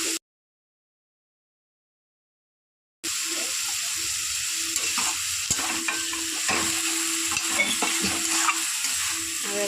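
Water lily stems frying in a pan while being stirred, a steady close sizzle and hiss broken by repeated scraping strokes, starting after a few seconds of silence.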